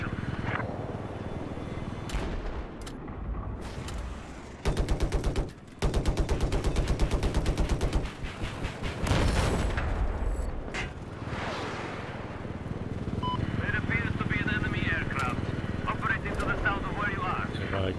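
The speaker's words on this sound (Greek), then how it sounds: "Κι άλλο με την καραμπίνα." Rapid carbine gunfire in a Conquest-mode video game, bursts of fast shots with a dense volley in the middle, layered over vehicle and aircraft rumble while someone speaks.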